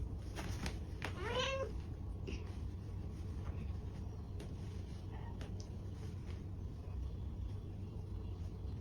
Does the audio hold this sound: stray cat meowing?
yes